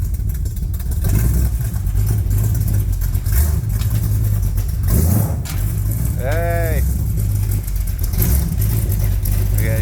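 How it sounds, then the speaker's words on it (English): A truck engine idles steadily after a cold start, a low continuous rumble running throughout with a brief rising whine partway through, while a man calls out briefly and other voices talk nearby. "his truck's running right. Oh man, it sounds so sweet. That's the cold start, man"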